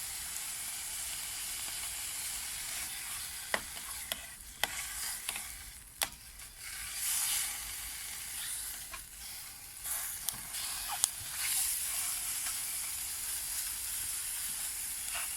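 Sausages frying in a pan outdoors on a winter ride, a steady soft hiss and sizzle with occasional clicks and scrapes as they are turned, faint and close with no talking.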